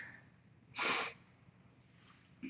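A single sharp little sneeze from a tiny kitten bursts out once in an otherwise quiet room, brief and close by.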